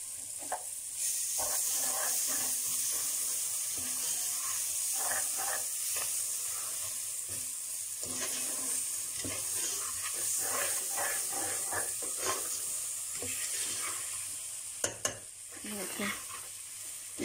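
Grated carrots are stirred into semolina roasting in a pan for halwa, a continuous hissing sizzle with repeated scraping stir strokes, close and steady.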